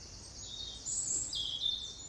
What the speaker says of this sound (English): What is that mysterious quality in birdsong?